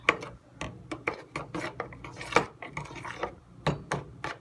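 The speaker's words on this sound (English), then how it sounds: "Now I'm gonna just mix it a little bit because it's already mixed." Utensil stirring French toast batter with vanilla extract in a bowl: rapid, close clinks and scrapes against the dish, repeated irregularly and fairly loud, with no talking.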